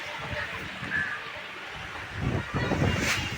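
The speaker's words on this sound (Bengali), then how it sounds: "হাওয়াটা যা ভালো লাগছে এত সুন্দর লাগছে হাওয়াটা" Outdoor wind gusts sweeping across the microphone as clouds gather before rain, a steady broadband rush that swells louder toward the end.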